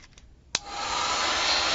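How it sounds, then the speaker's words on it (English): Handheld hair dryer used to dry coffee-water and distressed ink on watercolor paper switches on with a click, then a steady, close, rising blowing whir that runs alone to the end. "I do have my dryer."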